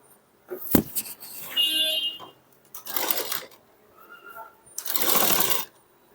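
A sewing machine runs straight stitches on a garment seam, in short bursts around two, three and five seconds, close and fairly loud between pauses, with light handling clatter.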